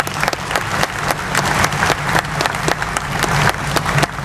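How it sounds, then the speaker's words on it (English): Audience applause for truck drivers at a Kenworth T680 truck presentation, dense steady clapping from a crowd lasting several seconds, loud and close. "So give him a round of applause,"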